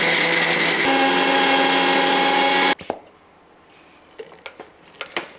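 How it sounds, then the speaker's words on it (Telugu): Mixer grinder blitzing roasted gram into powder in a mixie jar, a loud steady motor whine that cuts off abruptly, followed by a few light clinks and knocks of the jar. "పుట్నాల పప్పు పౌడర్ చేయాలంటండి. ఓకే, పుట్నాల పప్పు పౌడర్ చేద్దాం. Mixie jar మెత్తగానా"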